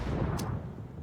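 Grenades detonate in PUBG on the Vikendi map, a loud, booming low rumble with a brief crack partway through, dense and close.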